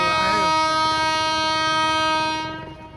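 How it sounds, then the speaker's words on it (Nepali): An electric passenger train rolls in with a long, loud, sustained horn blast over rumbling wheels, fading toward the end. "हेर्नु रहेछ रेल आइसक्यो गाइस"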